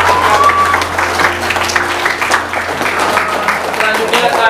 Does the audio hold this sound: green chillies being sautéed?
no